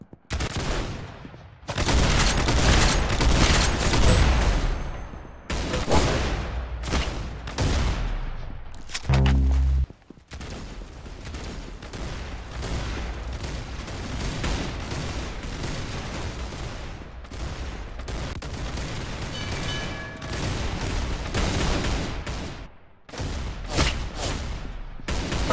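Gunfire in the video game Arsenal rattles in loud rapid bursts and volleys, with short pauses between clusters of shots across the whole stretch.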